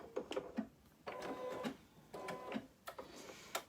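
An embroidery machine begins stitching quilting, a quiet rhythmic whirring and clatter in short repeating bursts about a second apart, close and soft, with no talk.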